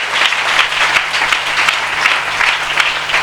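A congregation applauds steadily at a sermon gathering, a dense wash of many hands clapping that holds at an even, fairly loud level throughout.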